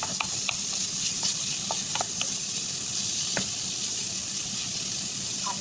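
Tomatoes sautéing in a pan with ground beef for ginisang gulay, a steady close sizzle broken by scattered light scraping and clicking of a utensil stirring through.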